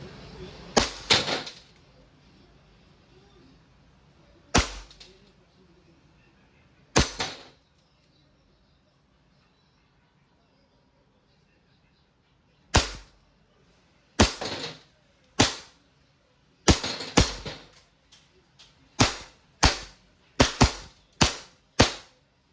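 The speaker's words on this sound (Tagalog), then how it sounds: "Standard size, gas blowback, airsoft pistol. Firing." A WE Hi-Capa 5.1 Type K gas blowback airsoft pistol fires about fifteen sharp, close cracks, spaced irregularly at first with long gaps, then coming in a quicker run near the end.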